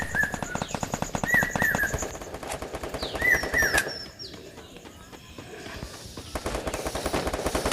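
Rapid bursts of automatic gunfire in the Free Fire video game, fast repeating shots in runs of a few seconds with gaps between them, over game effects and bird-like coos.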